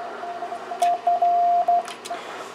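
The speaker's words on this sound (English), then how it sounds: "now we can just go and play with our straight key." Morse code CW sent with a straight key on a Yaesu FT-450 radio: a steady mid-pitched tone keyed on and off in short and long beeps, clean and loud over faint background hiss.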